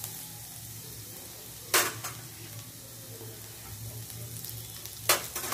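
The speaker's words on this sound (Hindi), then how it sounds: "अब इसे हम अच्छे से फ्राई कर लेंगे।" Finely chopped ginger with green chili frying in a pan, a faint steady sizzle underneath two sharp scraping stir strokes, quiet and close with no talking.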